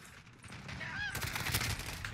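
Video game gunfire breaks out partway through as rapid, dense bursts of shots over a noisy game background, loud and continuous to the end.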